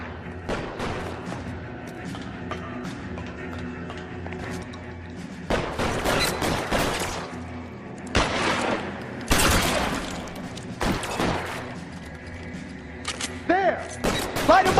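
Gunfire crackles through a shootout in L.A. Noire: loud bursts and single shots, some close and booming, some further off, arriving in irregular volleys against a running background bed.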